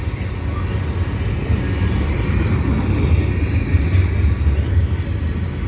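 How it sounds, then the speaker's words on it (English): A CSX freight train, No. 327 bound for Syracuse, rolls past at Dorval on a late afternoon, a steady low rumble and rattle of wagons holding level throughout, close by and fairly loud with no talk over it. "and here's this CSX train"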